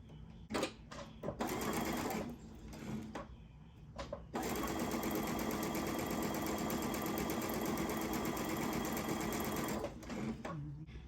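Sewing machine stay stitching a patchwork pillow cover, running in a long steady burst after a few short starts, close and loud with brief talk at the beginning and end.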